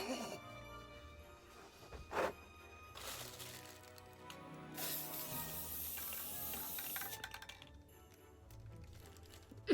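A hissing aerosol spray burst, close and fairly quiet, with rustling and handling clicks around it.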